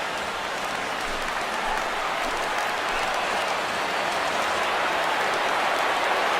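A broad, steady roar of stadium crowd noise from the MLB The Show 16 baseball game fills the air, constant and dense, with no voices standing out.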